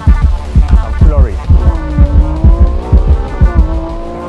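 A Ferrari Formula 1 car at Maranello produces a loud, throbbing low engine pulse in a rapid rhythm, with a rising and falling whine layered over it, close and continuous.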